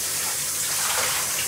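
Running water pours steadily from a tap or hose while a blue nose pitbull is bathed, a close, even splashing gush that rises slightly partway through, with no voices.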